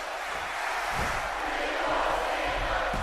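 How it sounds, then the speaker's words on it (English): A large wrestling arena crowd in the WWE 2K17 video game roars in a steady, dense wash of cheering that holds at an even loudness throughout, with no clear voices standing out. "The crowd seem to have changed their tune, haven't they?"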